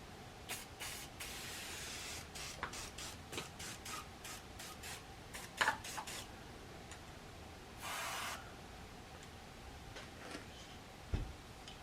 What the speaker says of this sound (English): Spray some down the barrel, let it sit.